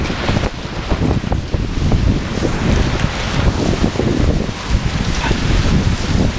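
Heavy hailstorm with hard rain lashing a city street in Mexico City, a loud, dense roar of pounding water and ice with gusty wind buffeting close to the microphone, unbroken throughout.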